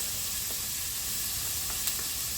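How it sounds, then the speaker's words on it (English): Chopped onion sizzling in melted butter in a hot pan, a constant hissing fry with a few faint pops and crackles, no talking. "Now I'm going to go in and add my onion that I finally cut up"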